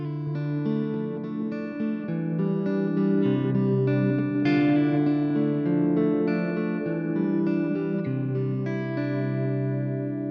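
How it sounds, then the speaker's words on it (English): Sustained guitar chords through a Chase Bliss Audio Tonal Recall pedal swell and blur into a lush, reverberant wash, notes smearing together into a continuous shimmering texture. "creates more of a textural, almost more of a washing into reverb type effect"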